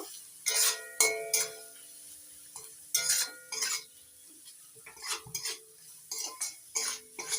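Spice masala is stirred and fried in a pan over a medium gas flame, with scattered bursts of metal spoon scraping and clinking against the pan at an irregular rhythm, close and fairly quiet, no talk.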